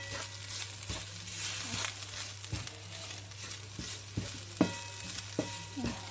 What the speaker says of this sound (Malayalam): തേങ്ങയും നെയ്യും ഏലക്ക പൊടിച്ചതിലേക്ക് നന്നായിട്ടൊന്ന് മിക്സ് ആകണം